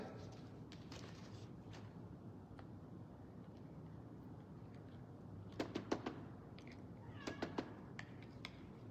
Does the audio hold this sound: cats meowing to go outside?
yes